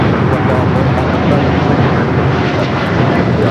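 An airliner at LAX airport, seen during morning plane spotting, makes a loud, steady, close engine roar that fills the whole stretch without a break.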